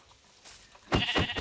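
A sheep in a survival video game bleats in a few short, close cries near the end, after a quiet moment.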